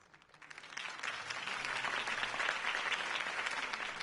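Video game crowd applause from Batman: The Telltale Series, breaking out loud and sustained, swelling quickly after a quiet start and holding steady as a dense wash of clapping.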